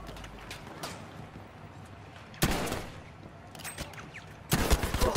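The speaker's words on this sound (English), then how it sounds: "Just ignore the gunshots and it's really peaceful." Battlefield 5 gunfire sounds as a few sharp, loud bursts of shots, separated by quieter stretches of background game noise.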